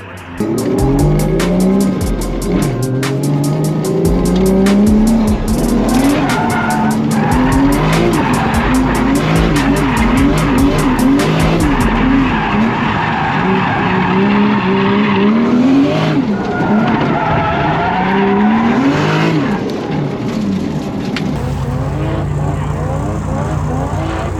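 A Toyota JZX100 drifts on a dark skid pad, its engine revving hard with rising and falling pitch while the tires squeal continuously, loud and close, with a voice talking over it at times.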